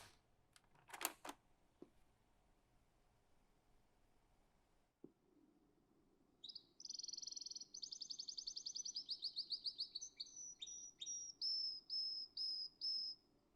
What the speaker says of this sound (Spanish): Básicamente usó toda la cinta para grabar a los pájaros que tenía en el patio.